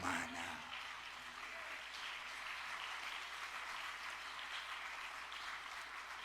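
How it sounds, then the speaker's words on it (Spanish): Congregation applause in a church during a sermon, a soft, even patter of clapping that carries on steadily for several seconds and sounds somewhat distant. "Así le queremos aplaudir a usted."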